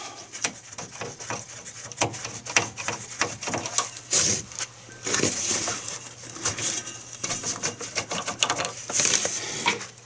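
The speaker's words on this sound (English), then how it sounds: "let's go ahead and remove those bolts" Wrench and ratchet work on the bolts of a sway bar bushing bracket under a vehicle, with a run of sharp metallic clicks and taps repeating irregularly and fairly close for about ten seconds.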